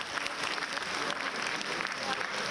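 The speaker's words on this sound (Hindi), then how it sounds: "आप सभी से गुजारिश है जोरदार तालियों के साथ बच्चों का हौसला अफजाई करें" Dense, steady applause from a school annual day audience, continuous and fairly loud for the whole stretch.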